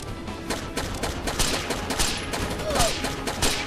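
Dense, loud gunfire in the tactical shooter Rainbow Six: Vegas 2, a continuous stream of overlapping shots and crackling rounds sustained throughout with no talking.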